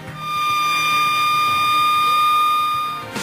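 A steady electronic tsunami warning siren on test in Mumbai sounds continuously for about three seconds, loud and unbroken, with a faint background hum and no voices.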